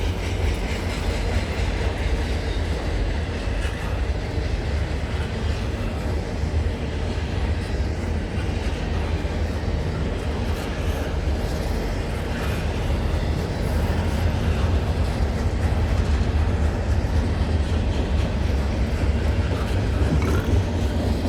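A CN freight train passes at night on the York Subdivision near Milepost 23, a loud continuous rumble and roar with steady wheel noise that holds for the whole stretch, close by and unbroken.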